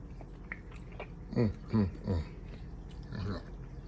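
Someone bites into and chews a crunchy, thick-cut fried green tomato coated in seasoned flour, giving several close crunching bursts over a steady low room hum.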